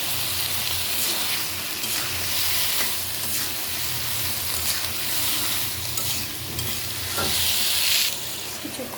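Taro stolons being stirred as they fry in a cooked-down spice paste for a dried-fish curry, a steady broadband sizzle with repeated scraping stir strokes throughout, close and continuous, with no talking.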